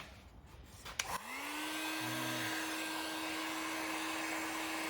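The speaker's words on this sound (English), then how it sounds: "got a heat gun, it's just generic, not sure how hot it gets" A generic heat gun warming fibreglass on a DIY car body clicks on, then whirs up into a steady, close blowing hum that holds alone to the end.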